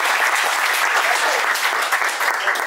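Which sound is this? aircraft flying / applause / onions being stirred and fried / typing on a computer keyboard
applause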